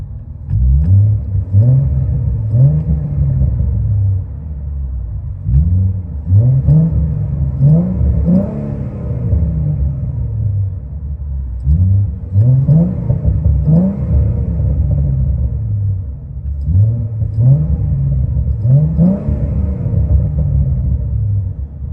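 Interior view of a 2011 Ford Mustang with a 3.7L V6 and LCGP resonators, the engine revving repeatedly in a steady cycle of rising, droning pulls that rumble loudly inside the cabin, with no talking.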